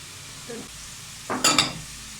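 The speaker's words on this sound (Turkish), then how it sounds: "Bunu şöyle bir karıştıralım" A spoon scrapes and clinks around a pot in a few quick strokes, stirring flour and yogurt into a sauce, fairly close, over a low steady background hiss.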